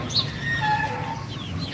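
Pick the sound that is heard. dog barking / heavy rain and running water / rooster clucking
rooster clucking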